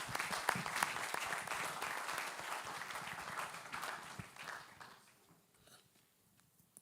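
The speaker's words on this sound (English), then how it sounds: "Let's give him a round of applause, please." An audience in a church hall applauds with dense, steady clapping, which thins out and fades over the last couple of seconds.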